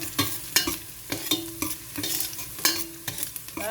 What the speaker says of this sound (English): So now I can add the onion. Now stir.